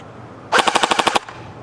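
A custom CYMA CM028 airsoft RPK light machine gun fires one short, sharp burst of about eight rapid, evenly spaced clattering shots, loud and close, with no talking.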